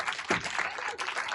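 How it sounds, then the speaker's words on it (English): Audience applause after a group exercise at a technology and connection talk, a short burst of clapping from a room of people with some voices mixed in. "Give yourself a round of applause."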